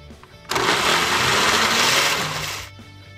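A kitchen blender runs in one short burst of about two seconds, whirring loudly as it mixes a rocambole batter of eggs and dulce de leche, then cuts off.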